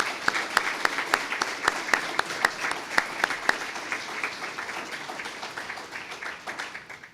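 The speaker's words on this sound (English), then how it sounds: "Let's all give Ethel a round of applause." Audience applause at an early college graduation breakfast, a scattering of distinct sharp claps at first that thickens into a softer, steady round of clapping from the room before fading toward the end.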